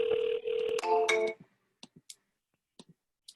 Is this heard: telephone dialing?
yes